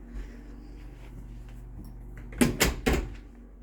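An indoor door is pushed shut, giving a cluster of three sharp knocks and rattles close by in a quiet room with a faint hum behind.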